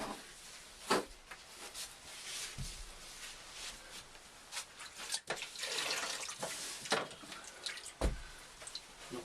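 A damp sponge scrubs in circles over freshly grouted shower tiles in a static caravan, giving soft wet wiping and squelching sounds with scattered drips and splashes, quiet and close, without speech.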